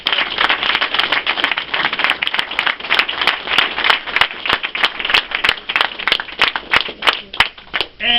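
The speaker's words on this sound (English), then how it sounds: "So would you please give him a round of applause?" An audience applauds at a political event in Wilkes-Barre for Governor Tom Corbett, steady dense clapping with sharp individual claps cutting through, loud and sustained throughout.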